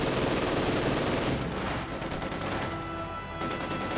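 Gunfire in the World War II strategy game Company of Heroes 2: rapid, dense bursts of rifle and machine-gun fire crackling continuously, with no voices over it.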